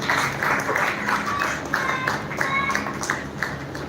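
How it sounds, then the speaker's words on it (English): Steady applause from an audience at a book launch, a dense wash of clapping sustained at even loudness, with faint speech mixed underneath. "I would request everyone to give a big round of applause for all of them"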